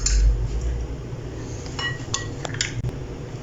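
Egg being mixed into batter in a bowl for rasmalai made with milk powder, heard as soft, irregular clinks and scrapes of a utensil against the bowl, close and fairly quiet, with no talking.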